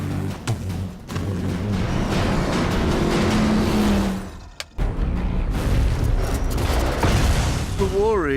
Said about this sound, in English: So a pair of 1959 Cadillac Coupe de Villes. It's two V8 engines locked together into one shaft.